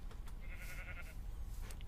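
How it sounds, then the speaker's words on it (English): A single brief bleat from a Minecraft sheep, faint under a low background hum. "go and lure us some sheep"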